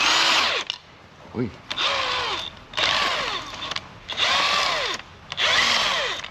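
A power drill whirs in several loud bursts, winding up and down in pitch as it undoes bolts on a Yanmar Kanzaki KM35P boat gearbox, with a brief playful voice between bursts.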